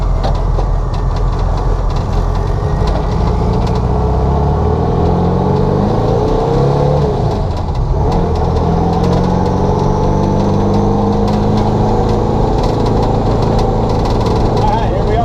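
A turbocharged 1967 Volkswagen Beetle engine on its first drive makes a loud, steady, droning rumble heard from close by, holding continuous for the whole stretch with slight shifts in pitch.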